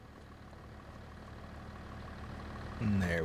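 A tractor engine in Farming Simulator 25 hums low and steady, swelling slightly over a few seconds before a voice starts speaking near the end.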